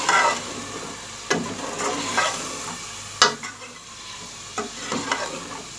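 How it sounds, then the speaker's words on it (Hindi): Mutton (gosht) being fried with spices in a pot for a Delhi-style shalgam palak gosht, a steady sizzle broken by several sharp scraping stirs, close and fairly loud, with no talking. "अब हम इन तमाम मसालों को गोश्त में अच्छी तरह भूनेंगे।"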